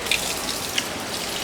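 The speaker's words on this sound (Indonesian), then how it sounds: "Untuk mencucinya gunakan air mengalir ya." Tap water runs steadily while laboratory glassware is rinsed, a close, even hiss with a few faint splashes and clinks throughout.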